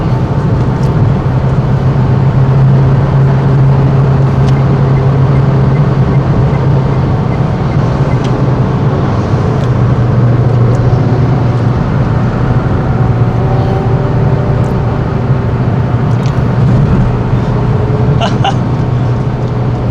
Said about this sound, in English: Very fast cars arriving.